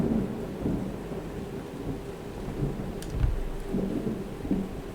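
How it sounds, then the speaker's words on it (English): Thunder rumbles through a steady wash of rain, with a low, heavy roll building in the middle and lingering, loud and close enough to dominate the scene. "Did you guys hear that? We got thunder."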